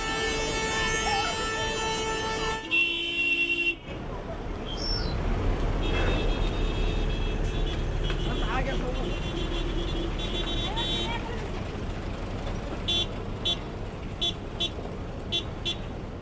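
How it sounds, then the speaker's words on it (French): Traffic hubbub rises at a cloud-covered mountain summit crowded with tanker trucks: engines rumble, horns toot in short bursts, and a voice talks over the din throughout. "En arrivant au sommet, dans les nuages, la cohue était indescriptible. Les camions-citernes avaient investi la place."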